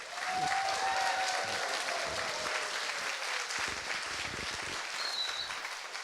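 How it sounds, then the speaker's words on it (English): Applause from a forum audience honoring a New York state senator in North Brooklyn, a steady wash of many hands clapping together, even and sustained, with a faint tone drifting underneath. "Let's give this wonderful senator a round of applause."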